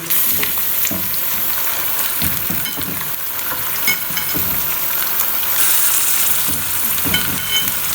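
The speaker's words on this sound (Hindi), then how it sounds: "चिकन को मैं 10 से 15 मिनट फ्राई करूँगी" Chicken pieces, including scored leg pieces, frying in a pan, a loud steady sizzle and hiss with repeated stirring scrapes and clatters throughout.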